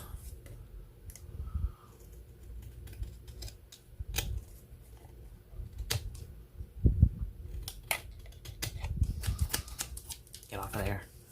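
Scissors trim white paper for a handmade journal envelope, making repeated sharp snips and rustles close up, with a voice talking at intervals.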